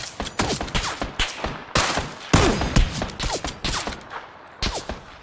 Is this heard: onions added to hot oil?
no